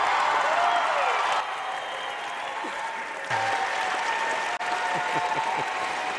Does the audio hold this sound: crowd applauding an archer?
yes